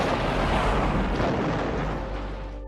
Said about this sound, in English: With a touch of the red button, you can take down a zombie horde.